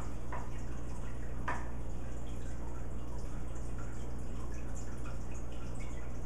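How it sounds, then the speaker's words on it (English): An aeration pump bubbles air through beer wort during home brewing, giving a steady, soft fizzing and dripping over a constant low motor hum, with a couple of brief splashy pops early on. "And let it aerate the wort for probably 15 minutes."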